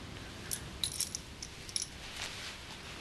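A bunch of keys handed back indoors, giving a few faint, brief metallic jingles and clinks over quiet room noise, with no talking.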